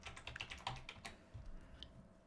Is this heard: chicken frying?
no